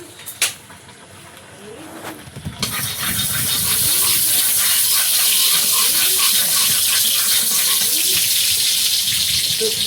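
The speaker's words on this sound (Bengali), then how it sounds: "তেলের মধ্যে একটু পাঁচ ফোড়ন" Panch phoron spices crackling and hissing in hot oil in a wok, a steady loud sizzle that starts after a few soft knocks and holds on to the end.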